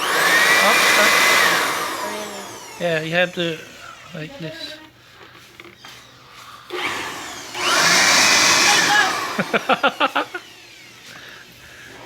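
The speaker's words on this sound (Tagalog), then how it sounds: "So that's how you will convert it from a vacuum cleaner, from an air blower into a vacuum cleaner" A Lomvum air blower used as a vacuum roars in two loud bursts, with people talking between them.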